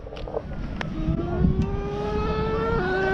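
A nitro-powered HPI Savage XL RC truck with a two-speed transmission screams steadily, its engine pitch climbing and then dropping as the gear shifts near the end, close and loud with no talk.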